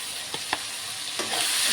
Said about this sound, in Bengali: এখন কষানো হবে, কষাতে কষাতে তেল ছাড়বে